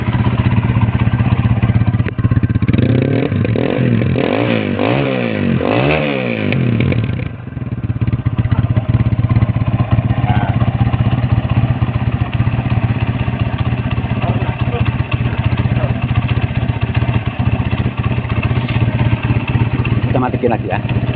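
A motorcycle engine idles loud and close, with a few quick revs early on before it settles into a steady, chugging rumble while a person talks over it.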